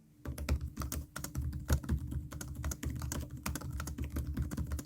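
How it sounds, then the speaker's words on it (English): Rapid, uneven typing on an Asus ROG Zephyrus G16 (2026) gaming laptop keyboard, thumpy, clacky keystrokes, close and steady throughout with no voices. "Now here's what the keyboard sounds like."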